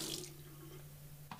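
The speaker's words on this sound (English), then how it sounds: "You're going to turn water on." A tap runs during hand washing at a sink, giving a faint, steady stream of water over a low hum, ending with a soft knock.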